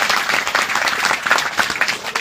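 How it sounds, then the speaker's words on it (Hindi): An audience claps steadily at a religious gathering in Fiji, a dense, close wash of applause holding at an even level for about two seconds. "ताली बजा के इनको"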